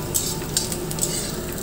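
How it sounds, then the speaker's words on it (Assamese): Onions frying in a pan and being stirred, with soft sizzling under repeated scraping and clinks of a utensil against the pan, close and steady. "পিঁয়াজখিনি অকণমান ৰঙা হোৱালৈ ভাজিব লাগে"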